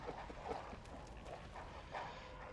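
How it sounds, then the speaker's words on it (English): Dogs bark and yip in Bloodborne, several short sharp barks scattered across the stretch over a low rumbling game background, fairly faint. "So, dogs. Lots of dogs."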